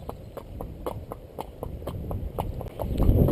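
A pony's hooves clip-clop in a steady walking rhythm during a ride outdoors, each footfall crisp and close, with no voices over them.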